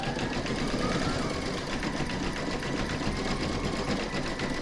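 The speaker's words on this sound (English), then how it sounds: "I'm now going to pop that back into my machine and stitch round number 4, and that's going to do the zigzagging" A sewing machine runs steadily through an in-the-hoop hedgehog appliqué, stitching a zigzag round in a continuous close, loud whir for nearly five seconds before stopping abruptly.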